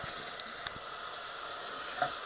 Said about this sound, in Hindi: डेढ़ मिनट के लिए भूनूंगी मसाले को